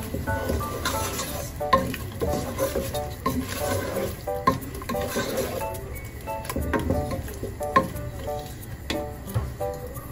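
Seafood in garlic butter sauce bubbles and sizzles in a pan while being stirred, with scraping strokes and clinks at irregular intervals, close up and moderately loud.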